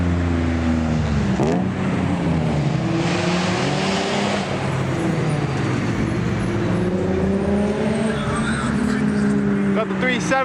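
A group of Nissan 370Z and 350Z sports cars roll into a car meet, engines droning and revving as they pass at moderate distance, with a rising pitch sweep and steady background traffic noise throughout.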